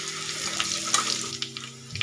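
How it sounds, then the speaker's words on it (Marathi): Mustard seeds and cumin fry in hot oil with garlic paste for a Marathi besan vadi bhaji, giving a dense, close sizzle with small crackles and pops and no voices. "व्यवस्थित फ्राय करून घ्यायची। त्याच्यामध्ये थोडीशी मोहरी, थोडे जिरे"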